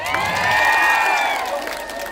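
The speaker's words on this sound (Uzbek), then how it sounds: "Yana bitta qarsak." A crowd at an outdoor village gathering in Shahritus, Tajikistan claps and cheers loudly for a couple of seconds, with a long ringing tone sounding through the applause.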